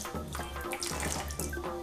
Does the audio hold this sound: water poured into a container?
yes